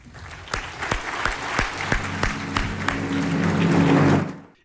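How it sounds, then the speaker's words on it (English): A crowd at a National Rifle Association convention applauds, with loud steady clapping that swells toward the end and then cuts off. Several sharp claps stand out near the start. "Please give a warm round of applause for a longtime visionary, statesman, and friend of the National Rifle Association, Chairman John Dingell."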